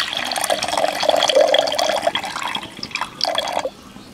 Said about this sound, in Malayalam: ആ വെള്ളം നമ്മളിതിലേക്ക് വളവളാന്ന് ഒഴിച്ച്